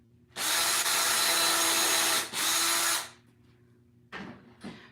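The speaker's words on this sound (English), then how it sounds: "I'm just going to make a couple little pilot holes to make my screws go in easier." Power drill boring small pilot holes in wood makes a loud, close, steady whine for about three seconds with a brief dip midway, then two short bursts after a pause.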